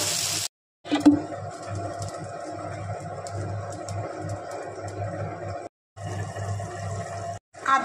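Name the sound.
water poured into pan of Bengali fish curry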